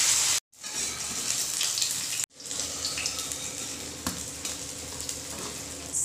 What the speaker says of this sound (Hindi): तो चलिए सेम तरीके से हम बाकी के बचे हुए टिक्की को भी फ्राई कर लेते हैं।